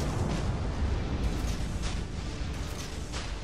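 A deep rumbling explosion from a torpedo hitting a ship in World of Warships: Legends, heavy low-end boom sustained with rolling debris noise and faint bursts, steady and loud throughout.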